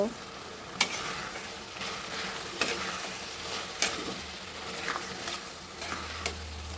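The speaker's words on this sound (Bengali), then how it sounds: "এবার মশলার সঙ্গে ভালোভাবে মিশিয়ে কষিয়ে কিছুক্ষণ রান্না করব।" Dried ribbonfish frying with spices in a pan, a soft steady sizzle broken by periodic sharp scrapes and clicks of a spatula stirring, close and fairly quiet.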